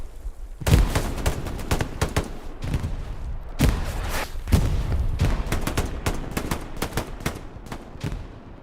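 An MG42 machine gun rattles in a 49-versus-49 Hell Let Loose battle, with loud, rapid bursts and heavy thumping impacts layered over constant distant gunfire.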